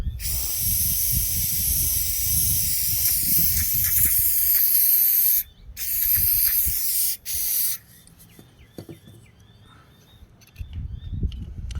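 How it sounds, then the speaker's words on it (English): A spray can hisses steadily in long bursts with short pauses, then stops, leaving faint quiet rustling and a few small clicks. "all you do is put spray paint in certain places and make it drip"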